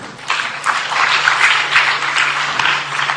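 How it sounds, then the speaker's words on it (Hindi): Audience applause at a poetry competition results and certificate ceremony in Aurangabad, India, a dense burst of clapping swelling in after a brief pause and holding steady, fairly loud and close. "इनके लिए भी तालियां बजाइए"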